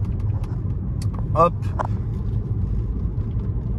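A 136-horsepower car drives along a road, its engine and tyre rumble low and steady from inside the cabin, while someone speaks briefly over it.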